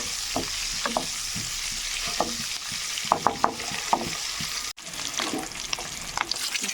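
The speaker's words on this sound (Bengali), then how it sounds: "ডিম ভাজা হয়ে গেছে" Boiled eggs frying in hot oil in a pan, giving a continuous close sizzle broken by crackling pops and spatula stirs and scrapes, with one sharp clack partway through.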